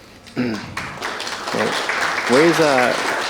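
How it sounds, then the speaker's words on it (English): A crowd claps for a shot at a snooker exhibition match, a scattered patter of hands mostly under a commentator's voice that talks over it throughout. "that does deserve a clap from the crowd"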